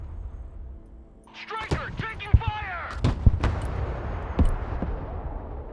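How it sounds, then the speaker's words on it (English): Artillery in a creeping barrage in the Broken Arrow war game, with scattered booming impacts and whistling shells at moderate distance, heard under radio-style unit voices talking. "Creeping barrage that way."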